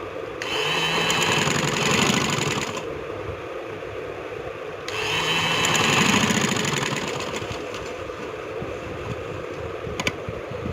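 A sewing machine stitches the side seams of a trouser in two long motor-driven bursts separated by a short pause, close and fairly loud, with a soft mechanical hum between runs.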